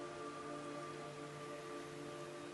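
Constant, even hiss of rainfall in Metal Gear Solid 3: Snake Eater HD, with a faint steady hum beneath it, unbroken throughout.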